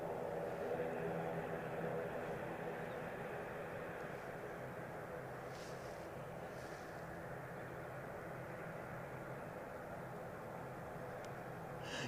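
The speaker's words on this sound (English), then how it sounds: "we'll pick up the departing Loganair as soon as she starts rolling off to" A Loganair plane rolls for take-off at Edinburgh Airport bound for Exeter, its engine a faint, distant, steady broadband roar that holds evenly throughout.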